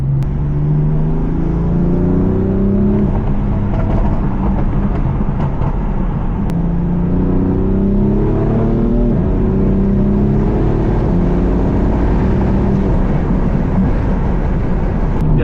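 Turbocharged BMW M4 engine heard from inside while driving, a loud continuous drone whose pitch climbs and falls through repeated gear pulls, with no one talking.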